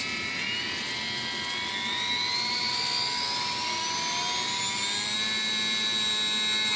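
Small electric motor and propeller of an RC powered glider, an ASK-21 UMX with a folding prop mod, held at full throttle: a steady high-pitched whine with rising tonal harmonics, loud and continuous throughout with no talking.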